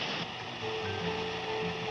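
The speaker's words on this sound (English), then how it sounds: "It's only one of those newfangled vacuum cleaners." A newfangled vacuum cleaner runs steadily in a 1969 Pink Panther and The Inspector cartoon, a continuous whirring hum with a held tone that stays level throughout, no voices over it.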